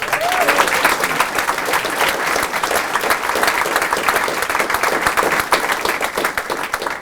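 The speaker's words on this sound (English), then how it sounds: "let's give a round of applause to Capital One for stepping up today." A large audience applauds steadily at a public announcement event for Kiva City Richmond, producing dense, sustained clapping at full volume that continues without letup for several seconds.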